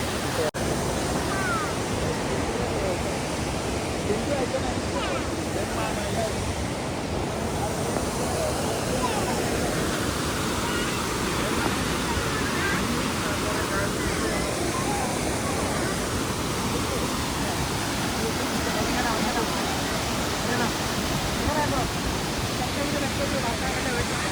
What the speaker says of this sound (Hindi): मेरे पीछे देखिए बहुत ही बड़ा एक वाटरफॉल है।